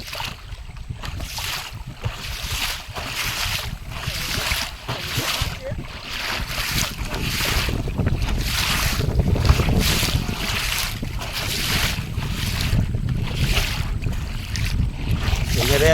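Strong south wind buffets the microphone over the rough water at the mouth of the Garal river during net fishing from a boat, a loud gusting roar with pulsing surges throughout.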